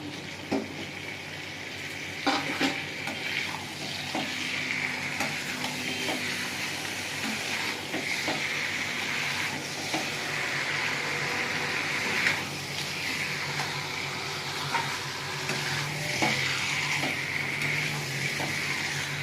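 Chicken offal chorchori with potatoes and banana frying in a pan, a soft continuous sizzle under repeated scraping and clinking of a spatula as it is stirred, close and moderate in level.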